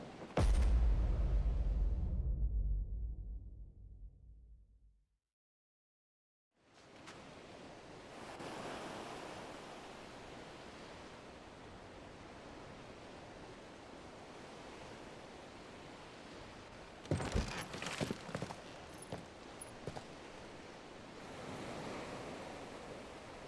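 Ocean waves and rough sea currents around a rocky reef in the video game Final Fantasy XVI, opening with a loud low rumble that fades to silence, then a steady broad wash of surf and wind with a brief louder surge.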